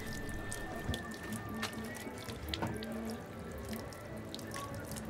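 Water runs steadily from a tap, a continuous splashing stream with faint drips, fairly quiet and without voices.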